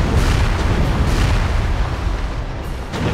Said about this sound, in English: you see the artillery going through, initiated